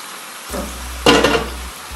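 Garlic ginger paste and tomato puree being stirred in a hot pan, with a soft sizzle and a brief burst of scraping and bubbling in the middle, heard alone and fairly close.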